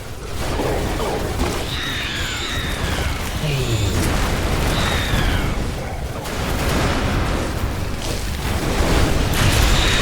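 A video game energy connector is destroyed with a booming explosion, dense crashing debris and whooshing effects layered together at full volume, with a game announcer voice partly over it.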